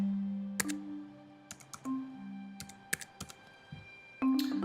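Keys on a computer keyboard tapped to enter a software licence dongle number, a series of sharp, close clicks in irregular bursts over a steady low background hum.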